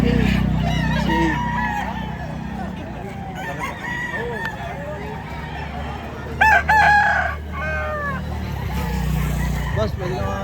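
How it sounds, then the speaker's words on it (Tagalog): Roosters crowing repeatedly and hens clucking at a busy chicken market in Lipa, Batangas, with several birds overlapping, one loud crow up close, over a steady background of voices and crowd bustle. "Andito tayo ngayon sa bentahan ng manok sa Lipa, Batangas."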